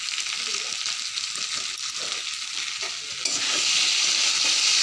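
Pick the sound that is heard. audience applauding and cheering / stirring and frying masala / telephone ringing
stirring and frying masala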